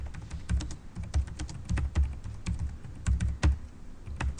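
Rapid keystrokes on a computer keyboard entering an ifconfig network command, a steady close clatter of light taps with no voices.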